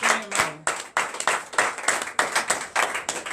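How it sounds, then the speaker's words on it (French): A church congregation claps in acclamation during a Holy Communion service, a burst of brisk, irregular handclaps from many people close by, lasting the whole moment. A brief tone sounds near the start. "Donnez l'acclamation au Seigneur"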